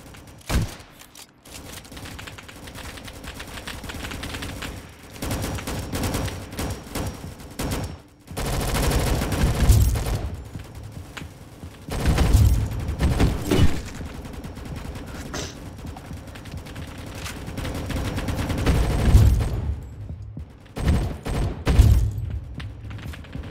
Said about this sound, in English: Oh, okay, I'm getting shot up.